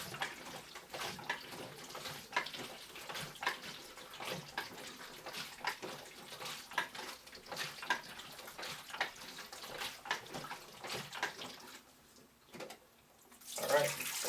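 Tap water running steadily to rinse developed 120 film in a sink, a continuous close splashing flow with small fluctuations that drops off near the end before a brief louder gush.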